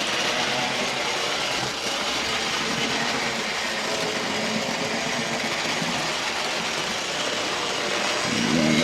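A steady mechanical whirring and rattling hum of an OO gauge Hornby Dublo three-rail Jinty model locomotive pulling two coaches around the track, fairly loud with no pauses.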